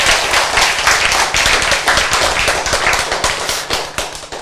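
Sustained applause from an audience at a lecture or seminar hall, dense steady clapping filling the whole stretch, loud and close with no voices over it.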